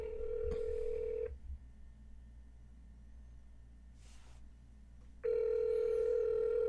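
An outgoing phone call that goes unanswered rings back through the earpiece: one steady electronic ring tone, a gap of about four seconds, then the ring starts again, with a faint click in the pause.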